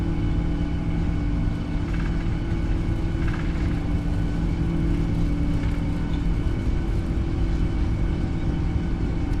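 A PMDG 777-200ER on its takeoff roll in a flight simulator, a loud, steady jet engine roar and rumble with a constant droning hum, unbroken throughout.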